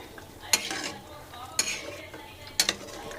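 Palak paneer being stirred in a pan: three sharp scraping strokes of a utensil against the metal, each followed by soft shuffling, close and moderately loud with no speech.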